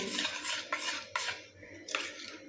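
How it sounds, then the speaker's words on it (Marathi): Fresh curd is whisked in a bowl with a spoon, giving a few short bursts of clinking and scraping against the dish over a soft, wet background. "हे दही आहे ते हलकंसं असं फेटून घेऊया"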